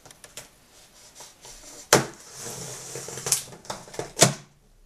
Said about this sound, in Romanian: Cuțitul de unboxing, tăiem.